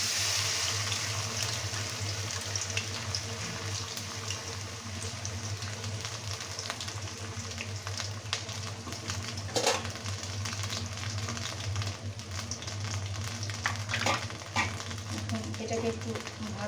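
A paste of onion, ginger, garlic and cumin fries in hot mustard oil with a steady low sizzle and occasional stirring clinks, and a voice speaks over it at times.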